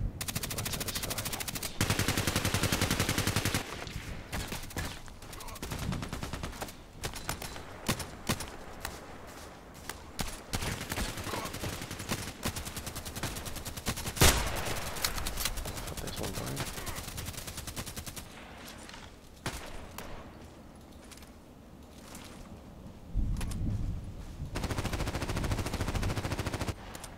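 Rapid bursts of video game gunfire, sniper and automatic weapons crackling in dense volleys across the whole stretch, loud and close, with brief lulls between flurries and occasional heavier booms near the end.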